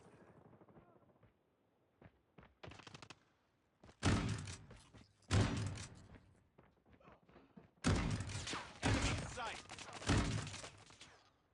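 Shotgun fire in Call of Duty Mobile: loud single blasts at about 4, 5.3, 8 and 10 seconds, each with a short rumbling tail, amid smaller clicks and thuds from handling.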